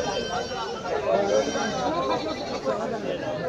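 Goats and sheep bleat at a village livestock market, several wavering cries rising over a murmur of people talking nearby.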